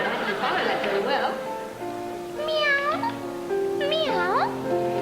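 A presenter's voice imitates a cat, drawing out two rising and falling meows, each a long wavering cry, with other speech at the start and an ambient hum underneath.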